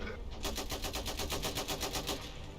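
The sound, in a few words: heavy machine gun firing in the video game Iron Harvest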